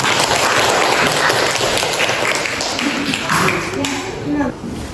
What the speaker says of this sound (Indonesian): Tepuk tangan dulu dong buat temannya.